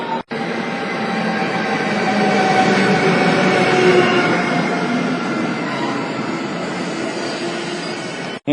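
Steady rumbling roar of a small Czech train running on rails, a continuous broadband clatter that swells slightly midway, with no voices.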